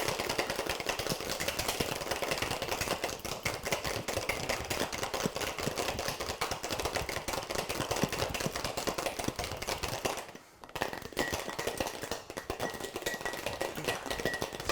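Cocktail shaker vigorously shaking an egg white cocktail, a fast, steady rattle that runs continuously for the whole stretch, pausing only briefly before resuming, close and fairly loud with no talking.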